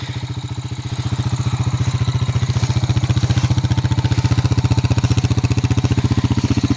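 A Honda Rancher 350 ATV engine idles close by with a fast, even, low thumping pulse, steady and unbroken throughout with no voices.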